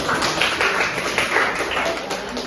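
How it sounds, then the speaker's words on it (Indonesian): Short round of clapping from a small group, likely a classroom, loud and close with irregular overlapping claps throughout and no talk over it. "tepuk tangan"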